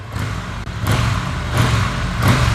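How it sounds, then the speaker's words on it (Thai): A 2024 Triumph Bonneville T120 Black motorcycle fitted with an aftermarket exhaust revs in three rising bursts over a steady low engine rumble, loud and close with no talking. "มาฟังเสียงท่อคันนี้กัน"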